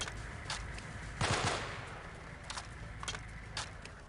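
Rapid automatic gunfire crackles on and off in the video game Delta Force: Black Hawk Down during a firefight at an oil field, with a denser burst in the middle and scattered distant shots.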